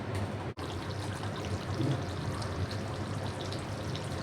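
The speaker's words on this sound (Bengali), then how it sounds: "এটা পানি দিয়া বহাইছি" Water pours into a pot of beef curry, a steady close rushing trickle over a low background hum with one brief break near the start.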